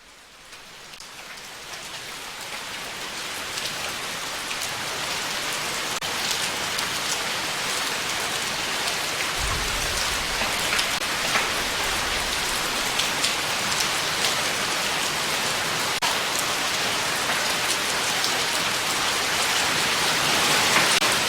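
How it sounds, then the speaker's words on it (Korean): Steady rain falls without pause, a dense hiss of drops pattering on surfaces, gradually swelling slightly louder. "갑자기 맑은 날 빗소리를 들으며 방송을 시작해 보려고요"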